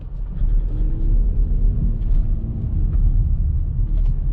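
A Škoda Kodiaq RS SUV hums along on the road, a low steady engine and road rumble heard from inside the cabin, constant and fairly loud throughout.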